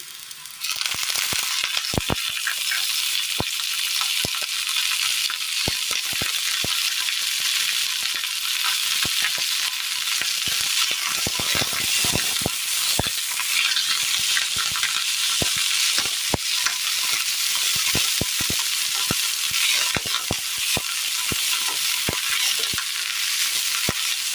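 Freshly washed, still-wet drumstick leaves hit hot oil in a pan for a Kerala chutney and sizzle loudly and continuously, with frequent sharp crackles and pops throughout and no talking.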